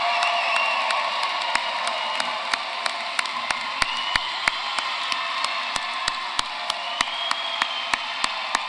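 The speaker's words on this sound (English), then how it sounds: "Would everybody please join in one last round of applause for all of our" Audience applause and cheering for 2019 graduates at a college commencement ceremony: a broad, sustained wash of crowd clapping with scattered whoops, steady and fairly loud throughout.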